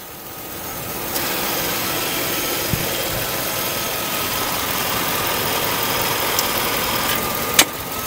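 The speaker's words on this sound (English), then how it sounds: "until the motor starts." A 2005 Chevrolet Silverado 1500 LS extended-cab pickup with front-end damage, its engine starting and then idling steadily at close range with an even low hum, broken by a few faint clicks and one sharp knock.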